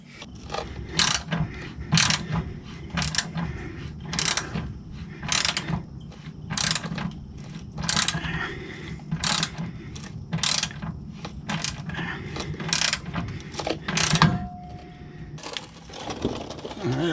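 Self-tapping screw being ratcheted into the metal mount of an RV scissor jack, a loud, rapid string of sharp mechanical clicks in uneven bursts with short pauses, close by and steady throughout.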